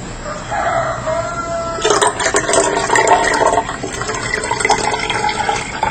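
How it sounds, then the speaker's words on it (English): Water pours and splashes into a stainless steel HHO container, a bright continuous gush that starts strongly about two seconds in and keeps going to the end, with no talking. "Let's add more water."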